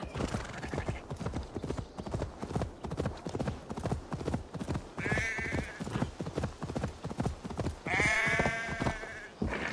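Horse hoofbeats while riding in Assassin's Creed Valhalla, a rapid steady clip-clop of a galloping horse up close, with brief whinny-like animal calls mixed in.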